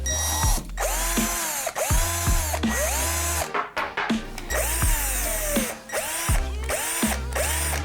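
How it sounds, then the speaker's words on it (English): A power drill cutting countersinks into a wooden fingerboard deck made from wrapping paper, running in repeated bursts of whirring with ratcheting, pawl-like clicks as the bit spins up and stops, close and loud with no talk. "This is what I use to put countersinks in the board."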